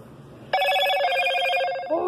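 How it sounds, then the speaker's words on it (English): A phone rings loudly from nearby with a steady electronic warble that starts suddenly partway through and carries on to the end, after a brief murmur of background noise. "Oh, that was just my Edge phone."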